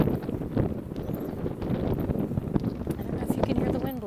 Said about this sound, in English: I don't know if you can hear the wind blowing, but it's blowing